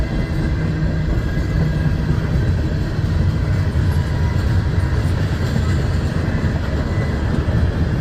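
A heavily loaded freight train with three locomotives and an auto rack rolls past close by, a loud continuous rumble of wheels and cars that holds steady throughout.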